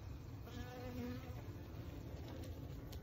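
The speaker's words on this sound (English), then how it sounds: "You can see the baby bees hatching out here." A faint, continuous buzz of many honeybees in an open hive hums in the background, steady and low, with no talk.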